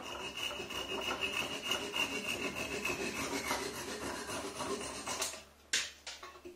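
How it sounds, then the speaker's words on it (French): A hand saw rasps back and forth, trimming excess off wooden dowels in quick, steady strokes, close up, ending with a few clattering knocks. "je suis venu couper l'excédent de mes chevilles"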